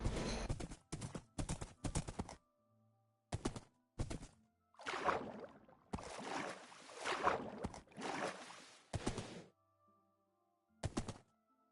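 A horse in the video game Minecraft clip-clops in clustered bursts of hoof thuds, loud and close, broken by short silences and longer runs of scuffing steps.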